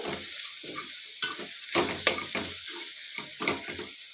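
A spatula stirs a chitranna rice mixture frying in a pan. Irregular scraping strokes sound close over a steady sizzle, with no talking.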